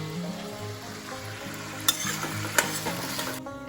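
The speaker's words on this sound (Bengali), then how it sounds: "পেঁয়াজ কলি ছোট আলু দিয়ে ভাজা করবো" Onion stalks and small potatoes fry in a pan with a steady close sizzle, punctuated by a couple of sharp clinks of a spatula stirring against the pan.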